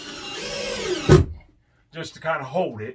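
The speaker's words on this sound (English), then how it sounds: "we'll go ahead and just to place 2 screws in this" A power drill drives screws into the framing of a door, giving a short, loud whirring burst, with talk before and after it.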